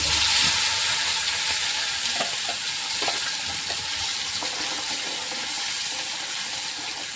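Ground masala paste hitting hot tempering oil for a potato gravy, a loud sustained sizzle and crackle with stirring that slowly settles, no voices.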